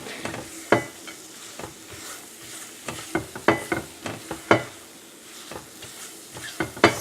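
Fig and date nut roll mixture being worked in a pan on the stove, with sharp spatula knocks and scrapes against the pan in an uneven rhythm over a faint sizzle, close up.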